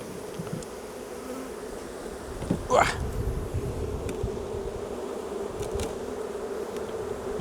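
Honeybees buzz around an opened hive during a checkerboarding swarm-prevention inspection, a steady low drone running the whole time with a brief louder buzz as one bee passes close to the microphone.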